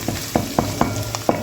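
Garlic, onions, pimento and potato (aloo) fry in a pot with a steady sizzle, broken by regular, evenly spaced clacks of stirring about every quarter second, close by and without talk.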